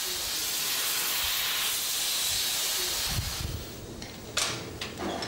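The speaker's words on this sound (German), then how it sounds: "Mit über 2000 Grad frisst sich die Flamme in den Stahl." A cutting torch flame burns through thick steel plate for anchor making, giving a strong, steady roaring hiss that later breaks into uneven crackles and sputters before settling again.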